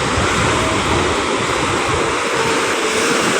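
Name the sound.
sea waves coming in at Manila Bay, Navotas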